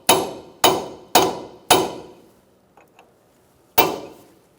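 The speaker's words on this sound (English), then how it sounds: "Make sure you peen your nut using a cold chisel and a sledgehammer." A sledgehammer strikes a cold chisel to peen a strut nut during a front strut replacement on a 2004-2009 Mazda 3. Four loud, evenly spaced metallic blows ring close by, then a pause with faint light taps, then one final heavy strike.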